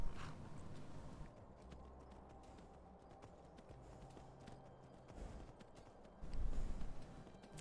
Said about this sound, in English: The horse is having a wonderful time trying to get on this terrain.